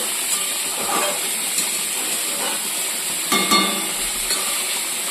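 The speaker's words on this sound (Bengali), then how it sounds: "ছোট মাছটা এই যে সেদ্ধ হয়ে যাচ্ছে" Small fish simmering in a pan, a steady close hiss and bubbling sizzle with a few soft clinks, no voices.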